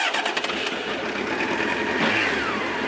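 A Honda CBR motorcycle engine cranks with a quick stuttering starter rhythm and then catches into a steady running idle, loud and close, with no voices.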